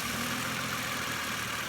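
A car engine idling rough and shaking, a steady droning rumble with a constant vibrating hum, close and fairly loud with no talking.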